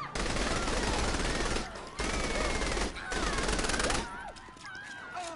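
Sniper and rifle gunfire in a video game, a steady dense barrage of loud shots that drops out briefly twice, with a swirl of game effects and whistling tones near the end.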